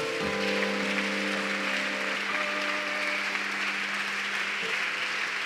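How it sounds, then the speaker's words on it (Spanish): A church congregation breaks into sustained applause, a thick continuous rush of clapping over steady held musical tones, loud and even throughout. "Un aplauso al Señor"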